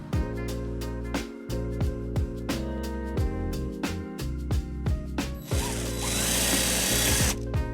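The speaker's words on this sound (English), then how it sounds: "we'll go ahead and drill a hole on the right side and put our bolt in" A power drill whirs in repeated short bursts with pitch rising and falling as it starts and stops, close by, ending in a longer grinding run, drilling a bolt hole in a 2020 Nissan Sentra during trailer wiring installation.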